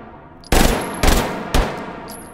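Three short, loud, close bursts of full-auto G18C pistol fire with a ported barrel in H3VR, each a dense rapid rattle separated by brief pauses, with no talking.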